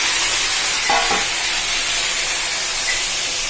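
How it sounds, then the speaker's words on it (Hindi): Prawns fry in hot oil in a pan for a homemade prawn mustard curry, giving a steady broad sizzle throughout with a brief stirring scrape near the start and no talk. "चिंगुड़ी भजा आरंभ है"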